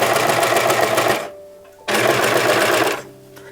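A sewing machine stitches a gathered sleeve in two loud, fast whirring bursts separated by a short pause, heard up close.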